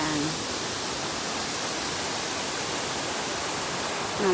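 Taiki waterfall rushes in a dense, constant roar heard from the top of the falls, a broad unbroken wash of water noise with a brief voice at the start and end.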